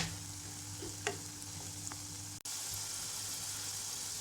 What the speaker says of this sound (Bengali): মিডিয়াম আঁচে রেখে আমি পটেটো বাইটসের টুকরোগুলো ভেজে নিচ্ছি।